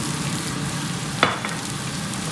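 Scallions added to a hot pan, a steady loud sizzle with a brief sharper hiss and stir as they hit the oil midway.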